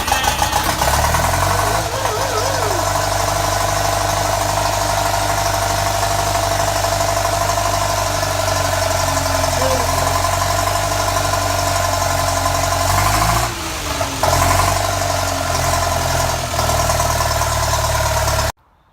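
A Ferguson TEA 20 tractor engine idles steadily close by, a continuous loud rumble with a slight knocking beat that barely changes before cutting off abruptly at the end.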